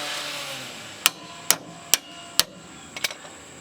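Several sharp, ringing hammer blows on a metal car suspension part of a Honda EK with a J32 engine swap, at uneven intervals, ending in a quick double tap. Close and fairly loud, with no talking.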